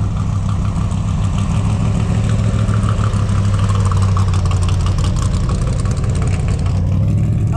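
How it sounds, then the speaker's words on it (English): A trophy racing truck's engine at a desert race's pre-qualifying rumbles loud and steady, a deep continuous idle with a slight rough pulse and no pauses, close by. "Listen, just a rumble of the engine."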